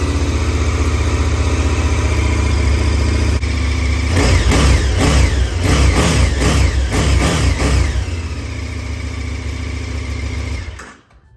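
Motorcycle engine with a stock Akrapovic slip-on muffler, dB killer still fitted: a loud close idle, then a series of sharp throttle blips and revs, settling back to idle before the engine cuts off.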